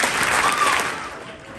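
Audience applause after a high school student's Commonwealth candidate speech, a dense wash of clapping that starts strong and thins out toward the end.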